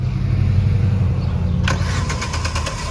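A 2014 Chevrolet Aveo 1.6 engine rumbles steadily, then cuts to a burst and a rapid, repeating starter crank that turns over without catching for lack of fuel, close and loud.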